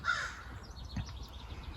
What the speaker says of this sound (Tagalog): Uwak. Anong uwak?